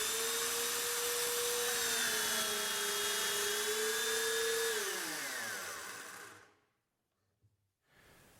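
A Triton doweling joiner motor whines steadily, then, having no electric brake, winds down in falling pitch and stops, leaving near silence with a faint click.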